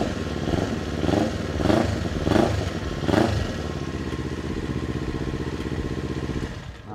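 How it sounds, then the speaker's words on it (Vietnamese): A Kawasaki Z400 motorcycle with an aftermarket exhaust runs close by, throttle blipped in four quick revs before settling into a steady, loud idle. "cho anh em nghe tiếng bô"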